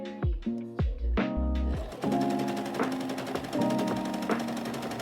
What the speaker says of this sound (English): You can hear my sewing machine fighting for its life with this fabric.